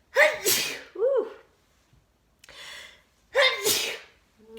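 Two loud, close sneezes, each with a sharp inhaled build-up and explosive burst, separated by a pause with a soft breathy sound, the second followed by a faint vocal trailing off.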